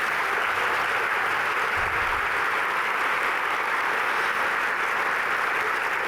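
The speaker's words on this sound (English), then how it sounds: "Can we just hear a massive round of applause?" A big round of applause at the WA Education Awards 2019 presentation: a dense, even wash of many hands clapping at constant loudness throughout, with no talk over it.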